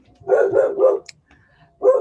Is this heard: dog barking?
yes